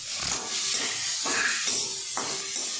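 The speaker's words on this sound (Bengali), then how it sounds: "এইভাবে নেড়ে চেড়ে কুচানো গাজরগুলোকে ভেজে নিতে হবে।" Chopped carrots fry in hot oil and are stirred around, giving a soft, steady hiss and sizzle with a few scraping stirs. No one speaks.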